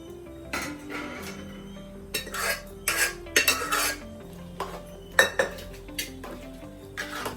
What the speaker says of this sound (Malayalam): പരിപ്പ് വേവിച്ച് വെച്ചത് ഇതാ ഒഴിക്കുക